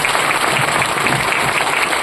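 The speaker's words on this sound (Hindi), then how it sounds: "ताली थोड़ी जोरदार वाली चाहिए सर।" An audience claps loudly at an indoor gathering, a dense and steady burst of applause with no voices.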